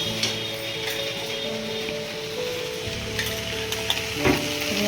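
Chopped onions sizzle loudly in a pan with okra, frying continuously up close while a spatula stirs and scrapes through them. A few light clinks of metal come near the end.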